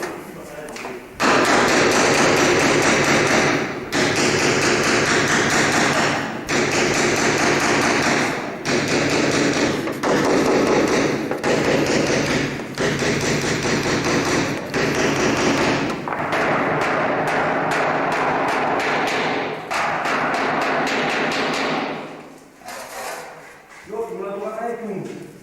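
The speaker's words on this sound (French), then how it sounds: "Puis sur un sac de sable, dès qu'on donne un coup, ça épouse exactement la forme voulue." Sheet metal is hammered on a sandbag to form relief, giving loud, dull, thudding blows in an irregular sequence of taps. The hammering is steady and close, with brief pauses between strikes.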